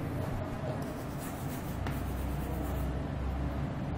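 Chalk or marker scratches steadily across a board in a physics lecture room, a continuous rubbing stroke over a constant background noise with no voices.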